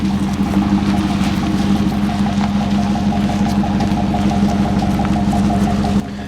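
A loud, steady engine drone with a deep low rumble from a 2013 GMC Sierra Denali pickup's 6.2-liter V8 runs without letup, then drops in level near the end.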